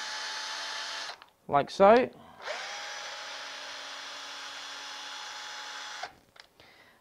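A thread-cutting tap driven by a drill through the centre hole of a toggle clamp part, a steady close whirring hum for several seconds with brief spoken words and a gap before it restarts.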